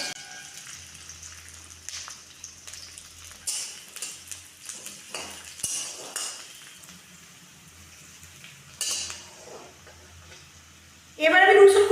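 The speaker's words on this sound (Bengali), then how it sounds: "পেঁয়াজ দিয়ে দেবো।" Chopped onions drop into hot oil tempered with green chilies and are stirred in a pan, giving a sudden loud sizzle at the end after quieter clinks and a voice talking.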